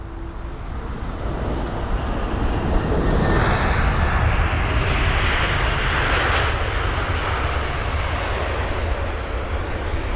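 Embraer E295 jet engines run steadily during pushback at London Heathrow, a loud continuous roar and whine that holds at near-constant level with no talk.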